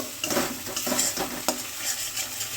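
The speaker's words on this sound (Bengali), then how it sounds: "লো টু মিডিয়াম ফ্লেমেই কিন্তু মশলাটাকে ভাজতে হবে" Spices frying in a hot wok (kadai) over low to medium flame, with steady sizzling broken by repeated scraping stirs of a utensil against the pan, close and moderately loud, no voices.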